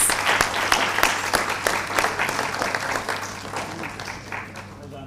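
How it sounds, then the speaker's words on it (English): An audience at a panel discussion applauds as a guest walks on stage, the clapping strong at first and gradually thinning, with voices faintly underneath. "Please give a big round of applause."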